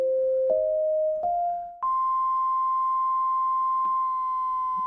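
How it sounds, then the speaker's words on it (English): A digital sine wave oscillator on a DSI Poly Evolver keyboard plays clean, pure tones that step upward in pitch three times with soft clicks between notes, then holds a steady tone alone. "the first shape is a digital sine wave."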